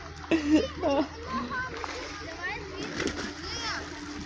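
A cannonball jump splash into an outdoor pool, followed by children's voices and shouting nearby, with lively pool chatter throughout.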